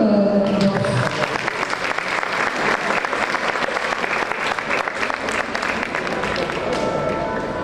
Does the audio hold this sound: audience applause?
yes